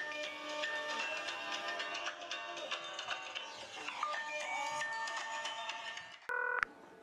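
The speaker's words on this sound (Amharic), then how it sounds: "ስልክ እየጠራ ነው።" A telephone rings in an Ethiopian film scene, a steady electronic ringtone melody with bright repeating tones that runs several seconds before a louder, sharper burst near the end.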